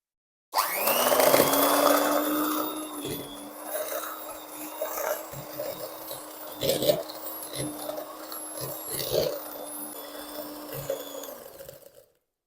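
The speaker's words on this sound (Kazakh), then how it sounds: "Ендігі кезекте жақсылап миксердің көмегімен араластырамыз" An electric hand mixer whirs steadily as it beats plum pie batter, a constant motorized hum with a bowl-scraping clatter and occasional knocks. The hum begins abruptly and continues until cutting off near the end.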